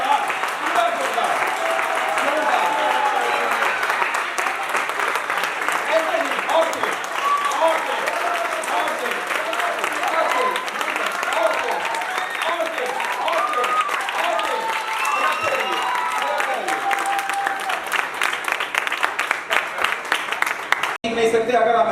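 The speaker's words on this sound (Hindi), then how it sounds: "मैं चाहूंगा स्टैंडिंग ओवेशन एक बार इनका दीजिए, खड़े होकर के जोरदार तालियों से सब लोग जोरदार" Standing ovation at a seminar result declaration: loud, sustained applause from a large audience on its feet, dense clapping filling the room throughout with cheers and voices mixed in before it cuts off abruptly at the end.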